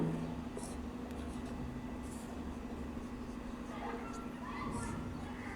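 Pen or marker scratching out a chemical structure by hand during a stereochemistry lesson, soft continuous strokes with brief gaps, close and fairly quiet over a steady low electrical hum and faint background noise.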